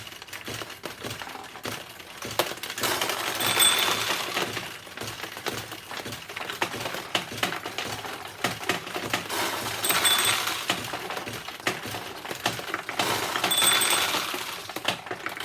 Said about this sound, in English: we'll play the machine and we should get it to win more often